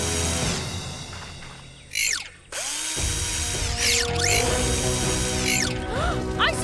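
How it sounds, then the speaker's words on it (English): Cartoon screwdriver sound effect: a whirring, ratcheting tool noise with rising and falling sweeps, loud and close, broken by a brief pause, with no voices. "Ruff, screwdriver."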